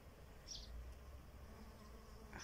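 Faint buzzing of bees near a flowering lemon tree, a soft insect drone with a brief closer pass, over quiet outdoor background.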